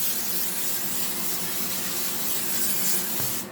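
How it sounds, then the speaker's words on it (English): Butter-flavored cooking spray misted steadily over coconut dinner rolls, a continuous close hiss lasting several seconds and cutting off at the end, with no voices. "I'm just going to take some of my butter flavored spray and just gently,"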